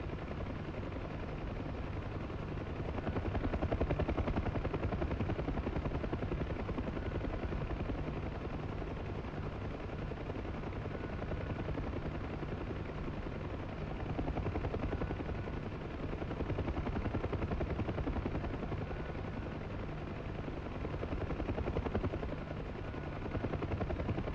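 Helicopter flying in a military video game set in the Sinai: a continuous loud rotor and engine drone holds steady the whole time with slight swells, alone without talk.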